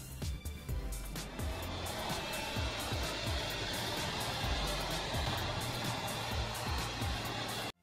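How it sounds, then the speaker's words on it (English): Internal cooling fan of a YG300 mini LED projector running, a steady close-up whir and broad hiss that holds at one level throughout, with a few soft low thumps and no voices. "The first thing I notice is the noise of the internal fan."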